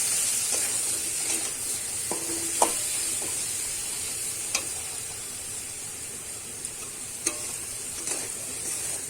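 Turmeric and gourd greens stirred in a frying pan, a constant hissing sizzle with occasional light clicks and scrapes of the spatula against the pan, close and steady.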